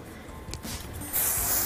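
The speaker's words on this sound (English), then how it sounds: "put a light spray over it" Hairspray sprayed over a heated-roller hair set: a soft hiss begins partway through and holds steadily to the end, close and fairly loud after some quieter handling noise.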